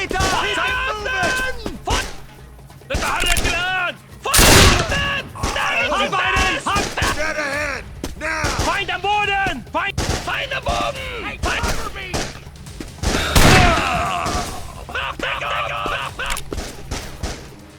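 War video game gunfire made with Call of Duty 2 sound effects, as troops in landing boats are shot at: sharp bursts and booms stand out amid chaotic battle noise, under someone talking throughout.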